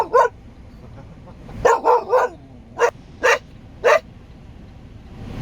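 A dog barks in a quick series of sharp, loud barks, some doubled, spaced irregularly over a few seconds against quiet outdoor background, aimed at people far off on a street corner.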